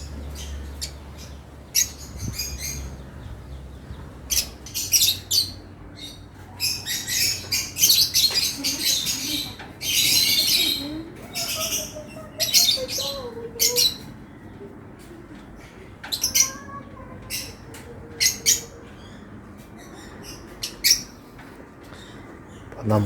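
African lovebirds, recently hatched young among them, chirp and squawk in repeated bursts, busy clusters of sharp calls rising and falling across the clip, close by with a low room hum beneath.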